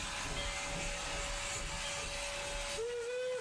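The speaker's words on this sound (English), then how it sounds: "Now we have another train going by." A train rolls past with steady broadband rumble and hiss, near and continuous, and a whistle-like tone sounds toward the end, with no talking.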